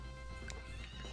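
Horse in the Story of Seasons farming game: a single short neigh and soft hoof clip-clops, quiet and close, with a faint game music bed underneath.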